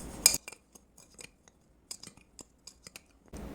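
Sugar, cocoa powder, starch and a pinch of salt are stirred together, heard as sparse, light clinks and scrapes of a utensil against the container, with short quiet gaps between strokes.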